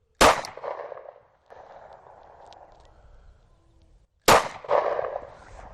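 Two sharp gunshots from a handgun with a red dot sight, fired outdoors about four seconds apart, each loud crack followed by a short decaying tail and a quieter stretch between them.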